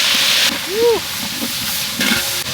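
Mutton fat frying in oil in a large wedding-style biryani pot, with a steady sizzle and hiss, a brief high hiss at the start and a short squeak partway through.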